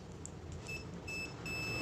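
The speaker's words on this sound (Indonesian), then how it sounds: "ini ampermeter kita putar ke mode buzzer ya" A multimeter set to continuity buzzer mode, tested on a rice cooker switch, gives thin high beeps that come and go over faint room noise, some longer tones and a few brief chirps.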